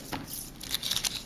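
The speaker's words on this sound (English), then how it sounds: "Just gonna make a little cut." Scissors make a short snip through ribbon, a few close, crisp cutting and rustling sounds during crafting, quiet and alone.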